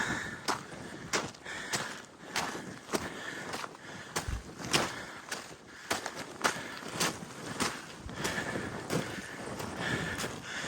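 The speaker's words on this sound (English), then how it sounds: "As always, it's very windy in Iceland." Gusty wind buffets the microphone in uneven rushes and thumps, loud and close, with no one speaking, at a volcanic eruption site in Iceland.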